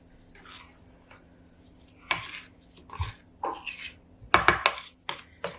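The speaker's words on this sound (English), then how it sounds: "So I'm scraping it really good with my spatula." Spatula scraping buttercream around a mixing bowl in a home kitchen, several short, close scrapes and knocks in irregular bursts with quiet pauses between them.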